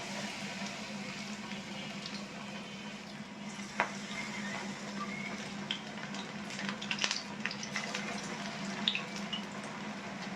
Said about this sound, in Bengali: এখন আমি একটু একটু পেঁয়াজের মিশ্রণ নিয়ে চুলায় দিয়ে দিচ্ছি